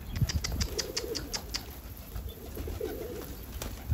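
Tumbler pigeons flap their wings while landing, a quick flurry of soft wingbeats up close with faint cooing and bird calls in an open outdoor setting.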